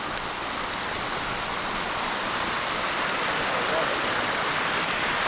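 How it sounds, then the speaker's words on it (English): The Llano River rushes over a road crossing in Colorado Bend State Park, a steady, loud, close broadband roar of flowing water that holds constant throughout. "There's a lot of water flowing right here."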